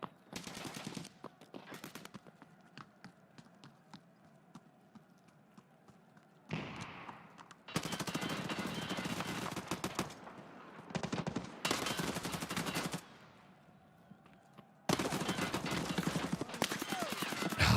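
Rapid automatic gunfire in Escape from Tarkov Arena comes in several separate bursts of a few seconds each, with quieter gaps between them, loud and close.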